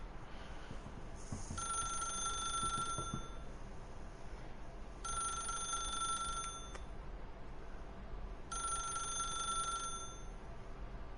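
A green rotary telephone in the video game The Stanley Parable rings in three evenly spaced bursts of metallic bell trilling, moderately loud over a quiet steady background, with no talk.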